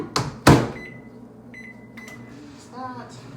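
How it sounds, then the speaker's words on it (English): A kitchen microwave oven is used to melt margarine or butter for pierogies: a couple of loud thuds from the door, a few short beeps, then a quiet running hum with a brief rattle near the end. "Put it in the microwave."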